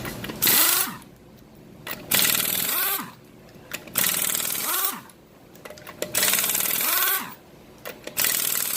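A power tool whirs up in four separate bursts about two seconds apart as the 19 mm wheel lug nuts come off a Chevrolet Cruze during a front brake job. Each burst is loud and rattling, with quieter pauses between them.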